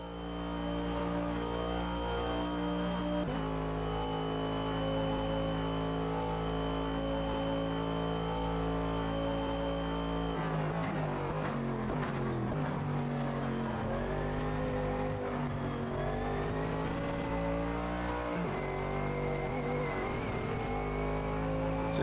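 A race car in the Automobilista 2 driving simulator runs on its default setup, its engine droning loud and steady, then shifting and revving up and down through gear changes in a continuous close roar.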